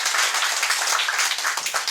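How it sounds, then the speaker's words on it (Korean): Attendees at a Bulgwang-dong redevelopment community meeting clap together in agreement, a brisk, even patter of many hands that stays dense and close for the brief stretch. "그 말씀에 동의하시면 전체 박수로서 동의"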